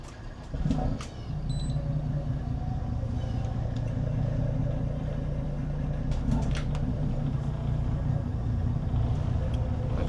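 The engine of a yacht in the Great Dismal Swamp turns over and starts, then settles into a steady low rumbling idle that runs close and continuous, with a few faint clicks and knocks around it.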